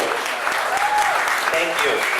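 A fundraiser crowd applauds in a room, steady dense clapping held at a loud level throughout, with voices mixed in underneath.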